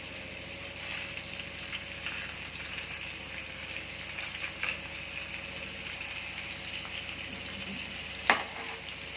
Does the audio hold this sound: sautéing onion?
yes